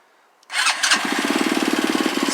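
A Honda Trail 70 minibike, choked for a cold start, fires up after a short silence and settles straight into a steady, even-pulsed idle, loud and close with no talking.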